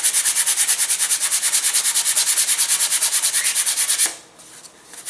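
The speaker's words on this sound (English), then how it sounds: "sanding all of that down though" Sandpaper rasps rapidly back and forth in quick, even strokes along the leading edge of a model rocket glider wing for about four seconds, then stops, leaving a few faint rustles. Close and loud, no speech.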